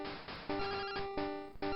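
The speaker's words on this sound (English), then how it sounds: "Phone call." A phone rings in Pokemon Crystal with a loud electronic chiptune trill, repeating in short bursts about four times in quick succession, alone.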